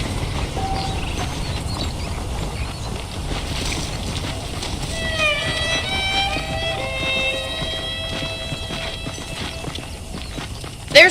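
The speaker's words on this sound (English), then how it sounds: "The horses are saddled up over here." Steady hoofbeats of saddled horses clopping along in Red Dead Redemption, with a soft ambient bed and a brief melodic chime partway through.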